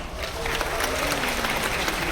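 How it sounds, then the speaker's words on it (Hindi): Dense crowd applause fills a hall at a crypto trading competition event, loud and steady for its full length, with a voice faintly present under the clapping. "जोरदार तालियां"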